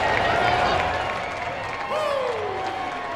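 A baseball stadium crowd applauds and cheers a departing pitcher, a broad roar of clapping and voices under a commentator talking throughout.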